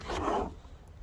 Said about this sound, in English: Hold on, open the drawer.